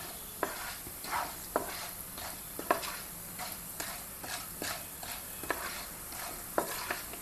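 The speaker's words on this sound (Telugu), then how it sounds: "మనము దీని పక్కనే ఉండి దీన్ని కొంచెం ఓపికగా ఇవన్నీ వేయించాలి" Spices and raw chana dal fry in a pan for stuffed brinjal curry, a soft steady sizzle broken by regular scraping stir strokes, quiet and close.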